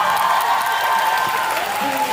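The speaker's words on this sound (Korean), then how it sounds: "그럼 박수 한번 주세요." Concert audience applauding in a large hall at a COEX Hall B music event, a steady wash of clapping with some crowd noise and a faint tonal hum underneath, sustained and fairly loud throughout.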